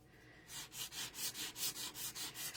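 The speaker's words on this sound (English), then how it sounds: "the more you rub it and the farther in you go, the more distressed it will look" Cardstock edge rubbed back and forth with a sanding tool to distress it, a steady run of about ten close, dry scraping strokes in an even rhythm after a brief quiet start.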